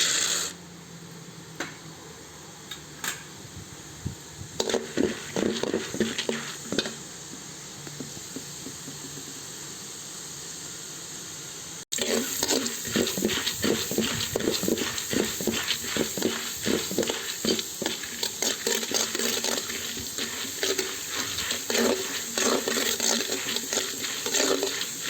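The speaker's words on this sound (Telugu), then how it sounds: "వేరుశనగపప్పు కూడా వేయించుకోవాలి" Chana dal and peanuts fry in a pan under a constant sizzle, broken by repeated scraping stir strokes. A short gap falls midway, then the frying returns louder and busier.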